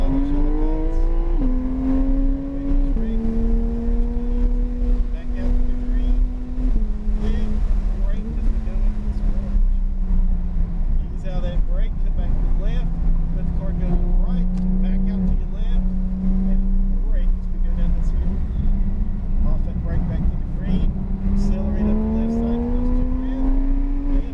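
A car on a driving course accelerates steadily, its engine droning loud and close throughout with pitch rising and shifting as gears change and the throttle is rolled on and off.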